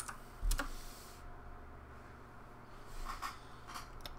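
Computer keyboard typing of a short command while playing a text-based MUD game, a few quick soft keystrokes in two small clusters, faint and close, with no talk.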